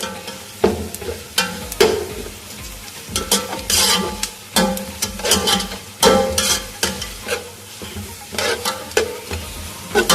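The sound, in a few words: meat frying and being stirred with onions for pulao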